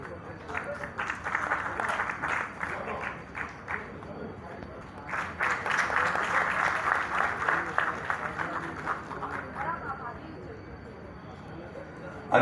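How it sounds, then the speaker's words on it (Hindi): Applause from the audience at a closing and award ceremony at the Arts Council in Karachi, a steady sustained wash of clapping that swells and fades across the clip, with talk underneath. "आप सबकी तालियां होंगी उनके लिए भी।"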